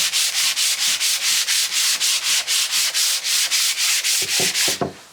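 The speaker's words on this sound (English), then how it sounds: "now you've got a little sanding block. This simple. You want to go with the grain" A wooden cutting board is hand-sanded with a sanding block along the grain, giving a steady series of about a dozen rhythmic, close scraping strokes, loud and even, with a few soft knocks near the end.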